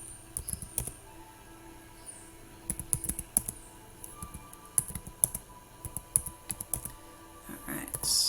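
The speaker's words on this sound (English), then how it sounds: "I'm going to type in very quickly all those distances." Rapid keypresses on a calculator keypad while distances are entered, a dense run of quick, irregular clicks close up against low background noise.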